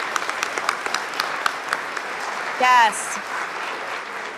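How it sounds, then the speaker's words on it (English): A town hall audience gives elected officials a sustained round of applause, a steady bed of clapping under spoken voices, with a brief vocal exclamation partway through. "Let's give all of our elected officials a round of applause."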